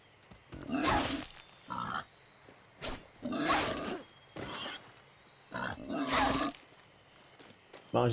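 A pig in a video game lets out a run of loud, rough grunts and squeals in several bursts, separated by short pauses.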